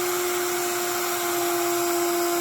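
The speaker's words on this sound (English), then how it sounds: "run my router plate counterclockwise around that template" Continuous high whine of a wood router with its bit cutting around a template, a steady loud drone with a sharp sustained tone and broad hiss throughout, no pauses.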